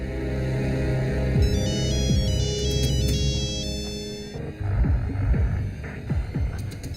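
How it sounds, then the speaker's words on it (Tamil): A mobile phone ringtone repeats as a looping electronic melody of bright, stepped tones, with a low throbbing hum and rumble running under it throughout. "உன் போன் அடிக்குது பாரு."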